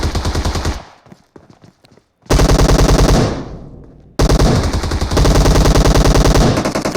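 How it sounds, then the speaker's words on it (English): Sustained automatic gunfire from a shooter video game, loud rapid machine-gun bursts in several long strings separated by short pauses with scattered quieter shots. "giving that cover fire"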